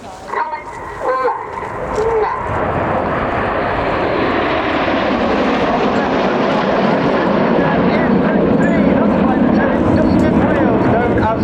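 The Royal Air Force display team flies over an airshow in Concorde formation, a loud, steady jet roar that builds and holds, with a dog barking briefly at the start.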